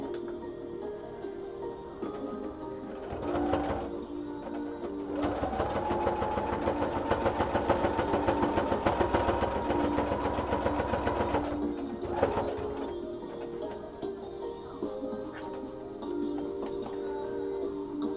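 A sewing machine runs a zigzag stitch, starting with short bursts and then settling into a long, steady, rapid whir with fine rhythmic ticking before it stops. The sound is close and clear, with no talking over it.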